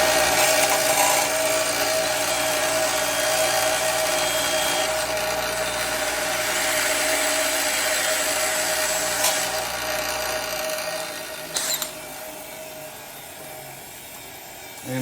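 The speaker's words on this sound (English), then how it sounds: "It's real easy to clean them up with a wire brush and a drill." A power drill spins a wire brush against Subaru WRX engine case bolt washers during an engine rebuild, giving a steady close abrasive whir with scratchy rubbing that runs most of the clip and eases off near the end.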